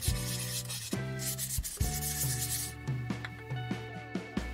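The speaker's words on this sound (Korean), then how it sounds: "술잔 표면을 좀 갈아 놓겠습니다" Hand sanding of a lacquered cup's surface: short rubbing strokes in an irregular rhythm, close and fairly quiet, with faint ringing tones in the background.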